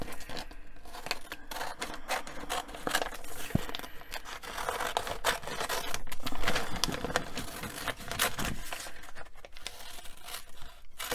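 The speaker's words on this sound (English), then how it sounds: "then I just come back with my scissors and trim along the edge." Scissors trim paper cardstock along the edge of a stamp piece, giving a steady run of close, crisp snips and soft papery rustling with no one speaking.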